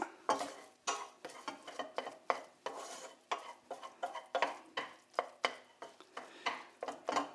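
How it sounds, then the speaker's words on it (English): Scrambled eggs seasoned with pepper are stirred in a pan, making a regular series of close scraping and knocking strokes about once every half second, with a faint sizzle underneath and no voices. "cheeky bit of pepper, and I'm going to stir that around a bit"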